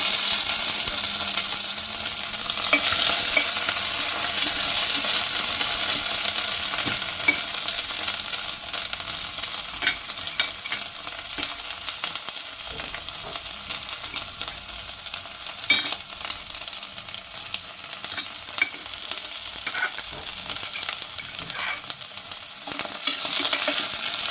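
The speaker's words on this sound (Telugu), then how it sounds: "ఇంత కట్ చేసిన ఆనియన్స్ ఉన్నాయి కదా, ఆనియన్స్ వేస్తున్నాను" Chopped onions sizzle and crackle in hot oil in a pan for chicken curry, a steady, dense frying hiss with occasional stirring scrapes running unbroken throughout.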